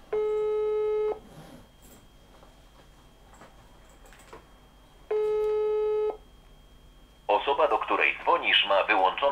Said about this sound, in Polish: Wykręcam numer do Jonka.